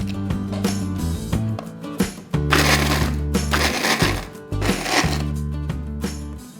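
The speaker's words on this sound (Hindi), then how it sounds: "मिक्सी में बर्फ पीस ली" An electric mixer grinder whirs while crushing ice for a kala khatta ice gola, a loud motor hum broken by rough grinding bursts and brief stops and restarts.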